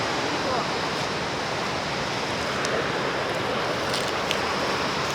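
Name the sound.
river flowing below in forest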